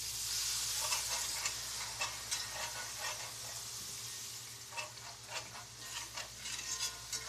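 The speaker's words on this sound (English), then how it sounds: "And you continually stir it because this heat is hot." Milk and drippings make country ham gravy in a hot pan, stirred with soft scraping and a continuous quiet sizzle and bubble. Strokes come repeatedly at an uneven pace and no one speaks.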